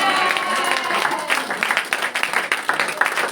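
Church congregation applauding and cheering in praise of God, a broad crowd roar that breaks into faster, choppier clapping as it goes on, loud and close, with voices mixed in.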